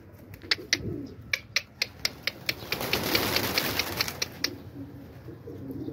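Rapid series of sharp claps from pigeon wings taking off in Quetta, Pakistan, then a whooshing flutter of flapping wings passing close by.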